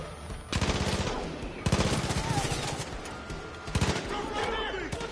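Enemy gunfire in the video game Far Cry 5, loud rapid automatic bursts in several volleys close by, with a voice speaking over the shooting.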